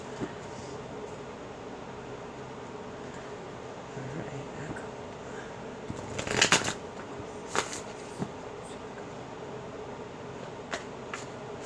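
Tarot cards shuffled in a quiet room, a short riffle burst in the middle followed by a few soft card snaps over a low steady background hum.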